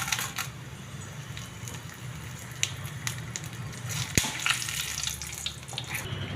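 Ten to twelve dried red chillies frying in hot oil over a low flame, a soft steady sizzle with scattered crackles and pops and one sharp tap of a utensil partway through.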